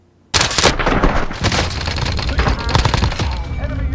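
Bursts of automatic gunfire from a first-person shooter PC game erupt suddenly after a brief quiet, loud rapid rattling shots and overlapping volleys continuing for several seconds.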